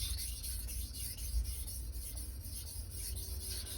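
A blade is sharpened by hand in repeated strokes on a stone, a soft, rhythmic scraping close up but quiet, with no talking.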